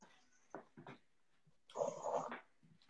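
A pet dog whimpers and breathes in short, close bursts, with a louder, longer whine in the middle of a quiet room.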